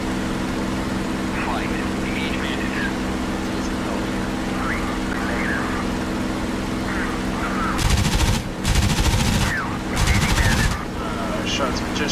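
Rapid bursts of WWII aircraft machine gun fire in a flight combat video game, three loud rattling volleys near the end over a constant drone of engines, with radio-style chatter in the background.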